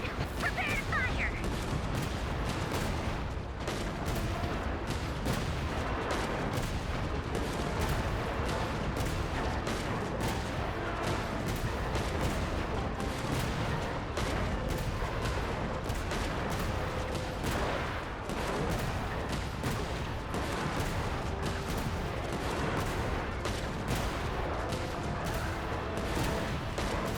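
Rapid, continuous cannon fire from Bosco in Genshin Impact, a dense barrage of loud booming shots that runs without a break across the whole stretch.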